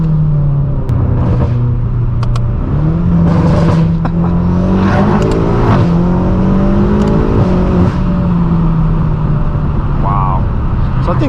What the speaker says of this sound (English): when you put downpipes on these cars, man, this sounds so loud, those pops